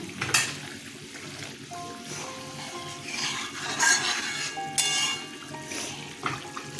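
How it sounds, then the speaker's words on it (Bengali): Fish curry gravy with five green chillies bubbles and sizzles in a pan for shorri punti fish, a steady simmering hiss with scraping stirs and bright clinks, close and fairly loud with no talking. "ঝোলটা ফুটে উঠেছে দেখুন আমি পাঁচটা কাঁচা লঙ্কা দিয়ে দিলাম"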